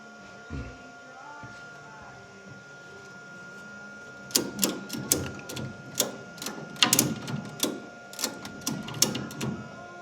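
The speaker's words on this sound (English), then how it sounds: "now I'm gonna crank on that ratchet strap until we've got that 1/8 inch gap between our 2 marks" A ratchet strap is cranked to rotate the VE injection pump on a first-generation Cummins diesel, producing a run of sharp, close mechanical clicks in irregular bursts after a quiet start.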